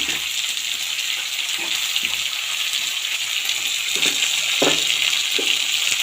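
Sundakkai tamarind curry fries in a pan with a steady, close, broadband sizzle, and a few soft stirring scrapes and clinks come through as chopped tomato is added.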